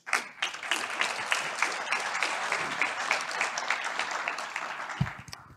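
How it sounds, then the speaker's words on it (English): Audience at an OpenStreetMap and Overture conference talk applauds the speaker Marc Prioleau, a steady wash of many hands clapping for about five seconds before it tapers off. "A warm applause for Marc Prioleau."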